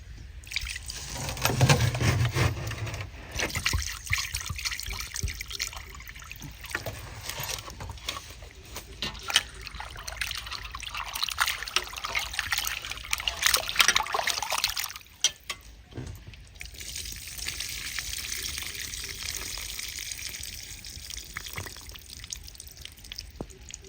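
Running tap water pours and splashes over raw chicken being washed in a home kitchen, a continuous close hiss with drips and surges, easing briefly near the middle before resuming, with no talking.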